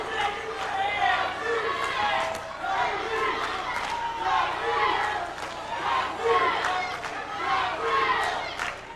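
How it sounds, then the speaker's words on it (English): A fight crowd backing Cung Le and Jason Yee roars and chants in rising and falling waves throughout an arena bout, while a commentator talks over the noise. "You've got Cung Le's supporters cheering, and then you've got Jason's supporters cheering."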